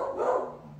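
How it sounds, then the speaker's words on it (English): A single short dog bark or yelp indoors, a brief mid-pitched burst under a second long, fairly close, with no talking. "sorry about my dogs."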